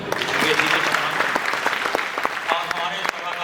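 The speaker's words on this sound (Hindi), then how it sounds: "एक बार जोरदार तालियां।" An audience at a Ramkatha gathering at Lajpat Bhavan, Kanpur, bursts into hearty applause, a dense steady patter of many clapping hands close by, with voices mixed in.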